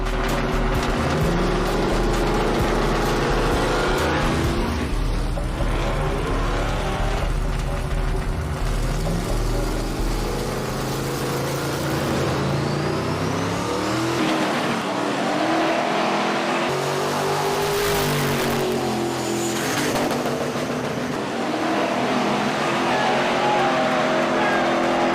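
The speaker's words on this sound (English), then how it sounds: "Donkmaster's driving the green Caprice Cocaine Cowboy. Stuntman's in his blue 75 Caprice" Two Chevrolet Caprice street cars, one a blue 1975 Caprice, race side by side with engines revving hard and roaring, loud and close, the pitch rising and falling through gear changes before easing off near the end.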